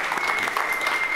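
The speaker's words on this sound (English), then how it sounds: "Round of applause for Jan." Dense applause from an audience at a hacker conference demo party, a steady wash of many hands clapping together at once, loud and continuous throughout.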